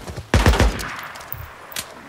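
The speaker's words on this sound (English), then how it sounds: "I need covering fire!" Gunfire in the Days Gone video game: a loud, close burst of rapid shots followed by a few quieter, scattered single shots.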